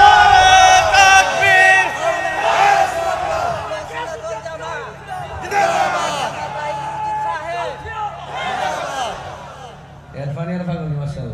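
A large crowd at a religious gathering chanting slogans in loud unison, rising and falling in repeated call-and-response waves.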